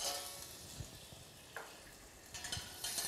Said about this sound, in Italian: Andiamo a rosolare le nostre ciliegie